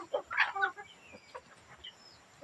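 Hungry chickens cluck in a short burst up close, a few sharp fowl calls followed by softer scattered clucks over farmyard background.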